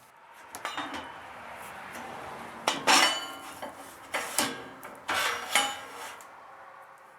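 A metal chain is fitted onto a rebuilt racing mower, making close, sharp metallic clinks and rattling clanks in several uneven bursts with quiet gaps between them.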